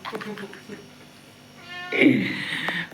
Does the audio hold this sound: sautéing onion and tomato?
no